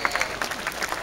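Audience clapping and cheering at a 2013 rock music festival in Jakarta, a short burst of dense applause with scattered claps, fairly steady and moderately loud.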